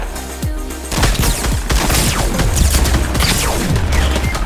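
Fortnite gunfire, a dense rapid series of sharp, loud shots fired close up in quick succession, with crashing impacts mixed in and no talking.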